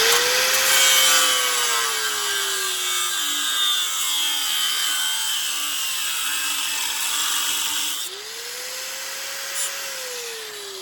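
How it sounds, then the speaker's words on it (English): An angle grinder cuts metal beneath a Lexus RX300, a loud, steady high whine. The motor pitch dips under load and winds back up near the end as the blade is eased off. "Maybe I can get the grinder up in there if I'm not laying on the cord."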